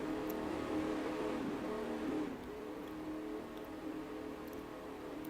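Race cars roaring past on the Talladega track at night, a loud sustained engine drone that swells and then eases slightly as the field passes the line.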